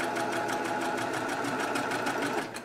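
A sewing machine stitches quilt star-point pieces with a fast, steady, close whirring rhythm that runs continuously before easing off at the end.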